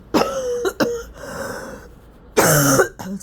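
Harsh, close coughing comes in a quick pair of bursts, then a short pause and another heavy throaty cough.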